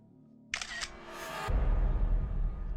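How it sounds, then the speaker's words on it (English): A digital camera shutter fires once, a sharp, close mechanical click with a quick double snap, followed by a low rumbling background. "The sound of a digital camera shutter, accompanied with a blindingly bright flash coming from an adjacent room"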